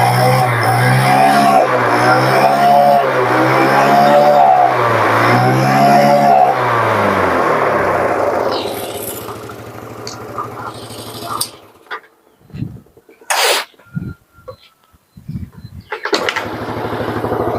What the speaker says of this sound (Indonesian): Satu kali engkol nyala ceng.